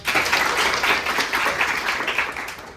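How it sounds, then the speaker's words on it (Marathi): A classroom of students claps for a classmate's answer during a history lesson, giving a brisk, continuous round of applause that fades slightly near the end. "सुंदर उत्तर दिलं, त्याच्यासाठी टाळ्या वाजवा."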